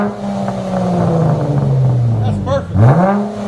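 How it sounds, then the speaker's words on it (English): A 2020 Dodge Challenger 3.6L V6 with Vibrant bottle mufflers and rear muffler delete drones loudly up close, its exhaust tone sagging and then swelling in a rev, with a brief spoken remark over it. "2020 Dodge Challenger with vibrant bottle mufflers and rear muffler delete."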